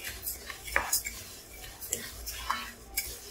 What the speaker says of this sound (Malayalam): ഇപ്പോൾ ഇതാ നല്ലപോലെ അരി നല്ലപോലെ ഒന്ന് വറുത്തെടുക്കുകയാണ്